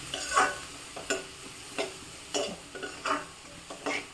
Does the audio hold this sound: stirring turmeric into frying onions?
yes